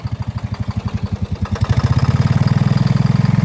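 A tractor engine idles with a steady, rapid low thumping rhythm that grows slightly louder and quicker partway through, with no talking.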